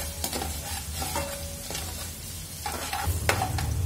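Garlic and ginger fry in a pan for cauliflower Gobi Manchurian, a steady close sizzle broken by short stirring scrapes of the spatula with no talking.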